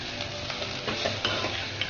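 Onion chutney with spices and crushed peanuts is stirred in a hot pan, soft scraping strokes over a steady low sizzle, close and fairly quiet with no talking.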